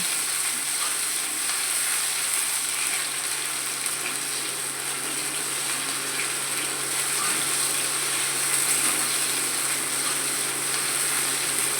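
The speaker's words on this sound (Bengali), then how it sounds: "এখানে আমি সরষের তেলে প্রথমে আমি আলু ভেজে নিচ্ছি" Small cut potatoes fry in mustard oil, a steady dense sizzle and crackle holding evenly throughout without any talk.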